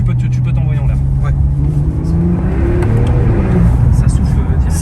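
Sports car engine revving hard and accelerating with instant gear changes, loud and close with rising engine pitch, people talking over it.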